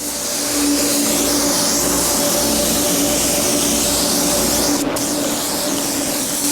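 A spray gun applying clear coat to a 1992 GMC 3500 dually truck, giving a steady, loud, continuous hiss with a constant mechanical hum beneath and a brief sharp burst near the end.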